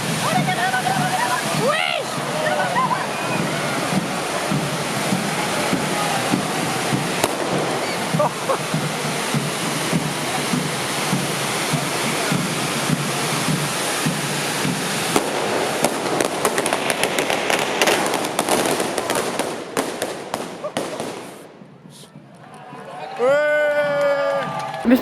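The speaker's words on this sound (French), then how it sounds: "il y a vraiment des pétards qui ont explosé là" Firecrackers and fireworks bursting outdoors at a crowded event, a steady dense crackle and booming over a noisy crowd with talking, then a brief lull before voices return.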